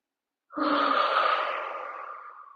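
A single long exhale during a guided evening breathing exercise, a soft airy whoosh that starts abruptly, holds steady, then slowly fades over about two seconds, close and alone with no talking.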